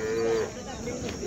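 A Khillar bull at a cattle market gives a short, close moo that fades quickly into the noisy background murmur of the market.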